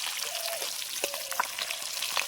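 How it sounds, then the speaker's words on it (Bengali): Tilapia fish and chilies fry in hot oil outdoors in a forest, giving a continuous bright crackling sizzle with scattered pops and spits throughout. "বন্ধুরা এদিকে মাছ ভাজা চলছে, আর কটা ঝাল ভেজে নেবো"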